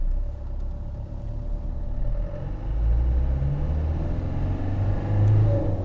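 A Land Rover Defender D110 with a 300 TDi diesel engine drives along at a steady pace, with a low continuous engine rumble and road drone that swells slightly as it pulls.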